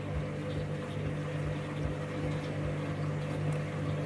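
A washing machine winds into its final spin, a steady humming motor drone with a low rhythmic throb that holds evenly throughout.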